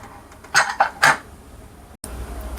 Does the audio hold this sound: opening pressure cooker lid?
yes